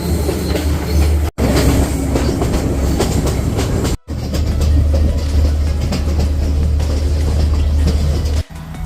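Train rolling through high-elevation tea plantations in Sri Lanka, a loud steady rumble with clattering wheels and rattling carriage noise, broken by two brief dropouts, no voices.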